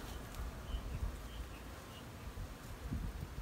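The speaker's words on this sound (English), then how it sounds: "So it's not just the honeybees." Honeybees buzz around a blooming Brazilian pepper shrub outdoors, a faint, steady insect drone with no talking.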